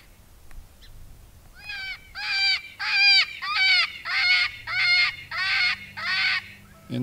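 Lucky Duck Revolt electronic predator call playing a cottontail rabbit distress sound at level 4, eight loud, harsh, wavering squealing cries repeating in an even rhythm, each about half a second long.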